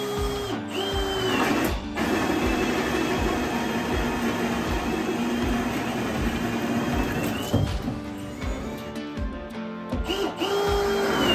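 A power drill bores into wood while wiring an off-grid home build, giving a steady, loud whirring drone with brief pauses and restarts as the bit works through knotty timber, close up and with no talking.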